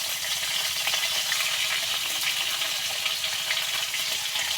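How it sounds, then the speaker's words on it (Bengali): Fish frying in hot oil in a home kitchen pan, a dense, steady sizzle with crackling spatter that holds loud and close without pause, no voices. "চলো মাছটা ভেজে নিই"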